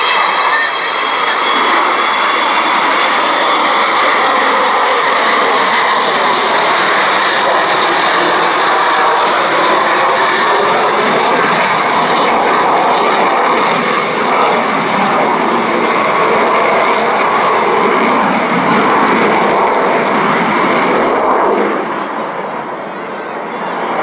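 Avro Vulcan jet bomber flying at the Cleethorpes air show, a loud, sustained broadband jet roar that holds steady for the whole stretch with a slight dip at the end, with a voice speaking over it.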